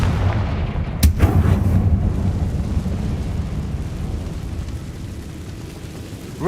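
A Confringo fire spell explodes in the video game Hogwarts Legacy, one sharp blast followed by a deep rolling boom that fades slowly over several seconds.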